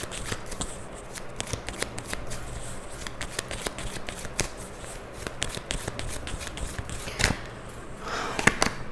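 Tarot cards being shuffled and drawn from the deck, a close continuous riffling and flicking of card stock with crisp snaps, louder at the end as cards are pulled out, with no speech.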